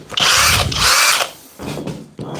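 A hammer drill roars in loud, close bursts: a long grinding run, a pause, then two shorter bursts of the same rattling whine.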